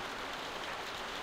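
Rain falling in The Walking Dead video game: a brief, steady wash of soft hissing rain on surfaces, even and continuous with no voices.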